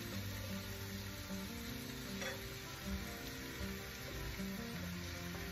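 Steady, dense sizzling of eggplant and other vegetables frying in a pan, with occasional stirring scrapes throughout.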